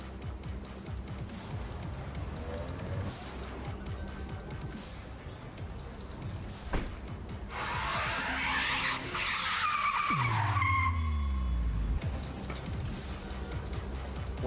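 A police car tears away with tires skidding and squealing, the engine roaring louder as it speeds off, with a sustained screech near the end.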